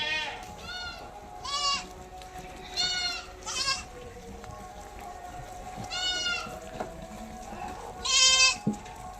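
Boer goats on a goat farm bleat again and again, with about half a dozen distinct, fairly close calls spread across the stretch over low background farm noise.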